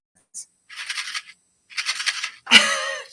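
A handmade shaker card with a snowy scene is shaken, its loose filling rattling in two short bursts followed by a louder, longer shake, close and with no talking.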